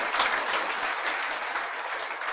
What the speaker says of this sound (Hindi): तुम तालियां ही बजा रहे हो